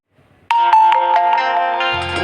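A mobile phone ringtone starts abruptly and plays loud and close as a sustained electronic melody with rhythmic pulses, running alone for about two seconds.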